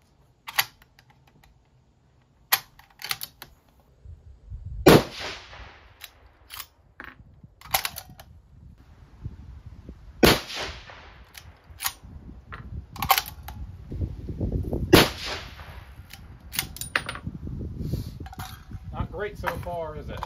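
A 7 SAUM rifle fires a five-shot group: loud, sharp reports spaced several seconds apart, with smaller clicks and handling noises between them and speech in the background.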